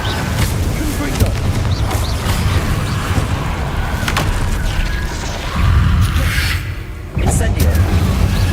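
A Confringo spell blast in the video game Hogwarts Legacy. Repeated fiery bursts and booms sound loud and close over dense game noise, and a voice calls out spell names in between.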